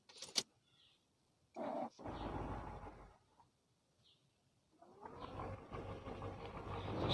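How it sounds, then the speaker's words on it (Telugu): In the Grand Truck Simulator 2 game, a truck engine cranks in short bursts with quiet gaps, then catches and settles into a low, growing rumble that carries on to the end. "స్టార్ట్ అయితే అయింది ట్రక్."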